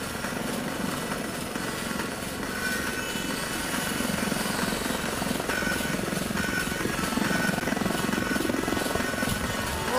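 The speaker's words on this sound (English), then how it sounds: "They'll perform what's called the backflip, and you'll just see the aircraft flip over its tail and fly out to the right." An Army Lynx helicopter flies a backflip manoeuvre at a display, its rotor thrumming and turbine whining steadily and fairly loud, with no talk.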